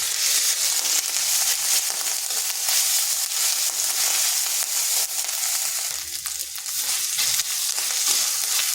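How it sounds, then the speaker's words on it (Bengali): Ginger paste frying in hot oil with panch phoron and a dried red chilli, a steady loud sizzle and crackle with faint stirring, no voices. "5 ফোড়নের সুন্দর গন্ধ বের হলে দিয়ে দিচ্ছি আদার পেস্ট।"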